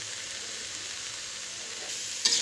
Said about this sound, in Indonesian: Kita aduk kembali sampai rata.